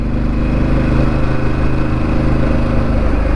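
Steady engine drone of a Harley-Davidson Pan America motorcycle cruising along a sunny ghat road near Mount Abu, Rajasthan, with a continuous low rumble and wind noise close up and no break.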